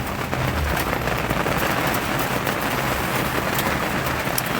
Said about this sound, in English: It's just been a little bit louder and a little bit heavier in the last maybe half an hour